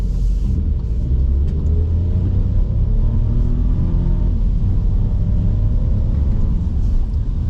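A 2020 VW T-Cross with a 1-litre engine accelerates, giving a loud, steady, low rumbling drone that holds throughout with no talking.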